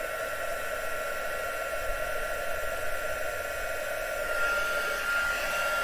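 Craft heat gun running steadily at close range, a continuous airy blowing hiss with a constant tone through the whole stretch, no talking over it.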